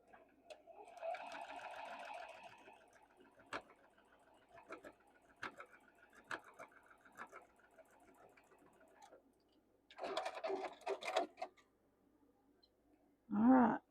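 A domestic sewing machine stitches a quarter-inch seam across a Tula Pink modern quilt block with nested seams, running in two bursts near the start and again later, with soft clicks and handling noise between and a brief voice at the end.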